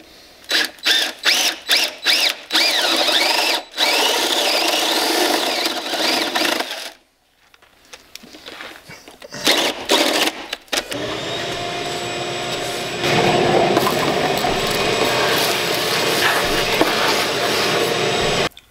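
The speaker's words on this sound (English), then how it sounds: "I just drilled a 1-inch diameter hole in every other shelf" A power drill whines in short bursts, then bites steadily into a wooden shelf, boring a 1-inch hole with a sustained grinding buzz, close and loud.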